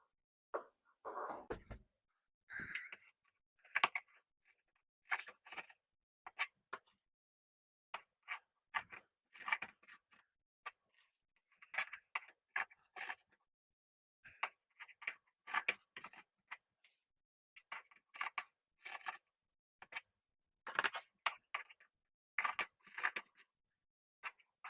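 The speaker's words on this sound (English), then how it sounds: "Now I'll cut all the layers at once based on that top marker." Scissors slice through stacked layers of fabric and fluffy batting in a run of short, crisp snips and crunches, close and fairly quiet, with brief pauses between cuts and no talking.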